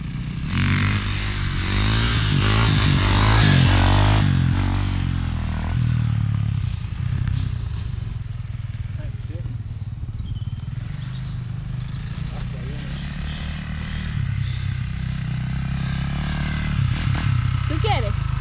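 A Kawasaki KX450 dirt bike engine revs loudly during wheelie attempts, roaring hardest in the first few seconds before settling to a steadier drone, with a person talking over much of it.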